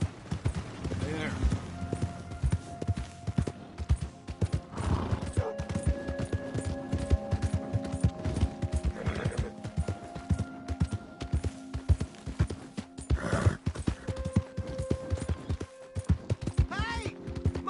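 Steady clip-clop of a video game horse's hooves runs throughout under busy game sounds, with a few brief bright whinnies and voices talking over it.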